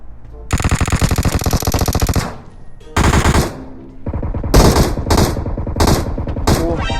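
Automatic gunfire from the mobile battle royale game PUBG Mobile: loud, sustained rapid bursts, one long volley then several shorter bursts with brief gaps, close and dominant, with no talking over it.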